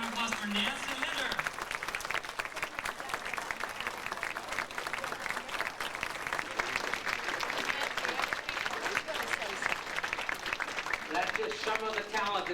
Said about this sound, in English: Please, another special round of applause for Nancy Linder.